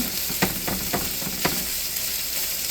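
Tri-tip beef sizzles steadily as it browns in a hot pan, a continuous bright frying hiss broken by a few soft clicks of stirring, close and alone.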